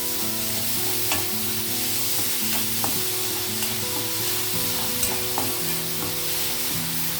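Spices and salt fry in hot oil in a pan for a drumstick and egg curry, a constant close sizzle with occasional sharp pops and stirring clicks, no voices present.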